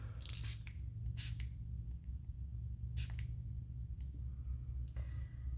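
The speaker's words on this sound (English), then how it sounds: "I'm going to just do a couple sprays over the top." Several short sprays of pearl-colored clay spray hiss from a pump bottle onto a clay surface, each burst brief and close, set over a steady low hum.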